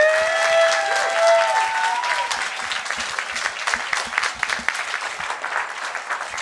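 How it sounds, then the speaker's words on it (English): A church congregation gives a round of applause, loud clapping with whoops and cheering voices at the start, then the clapping grows patchier and scattered as it fades. "let's do a big round of applause first"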